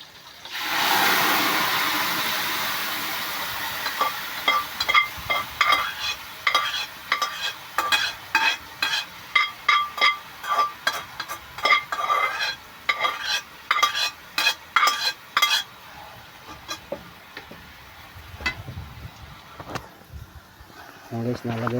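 Mung beans are stirred in a hot cooking pot, a loud sizzle at first giving way to a quick run of rhythmic scraping strokes, with talking in places.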